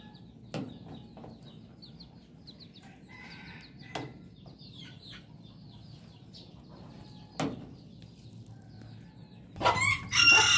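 Chickens in a backyard setting, one with swollen watery eyes, give scattered soft clucks and sharp clicks over a quiet background, then a rooster breaks into a loud crowing call at the end.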